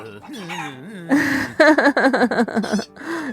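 A chicken clucking emote from the Cloak of the Cluck in a video game plays as a loud run of rapid, choppy clucks and squawks, close and busy, with a brief rising call before it.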